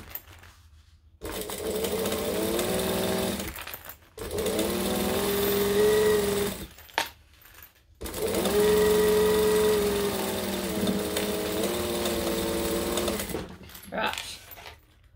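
A sewing machine stitches the side of a Magdalena bag closed, its steady mechanical whirr running in long bursts broken by short pauses, loud and close.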